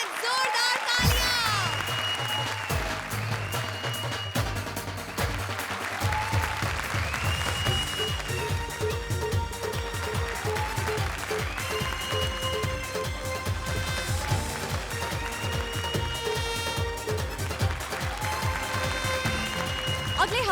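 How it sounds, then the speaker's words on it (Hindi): A studio audience at a comedy show claps loudly and continuously while music plays over it, dense, sustained applause with a few cheers from the crowd. "लेडीज एंड जेंटलमैन, जोरदार तालियां।"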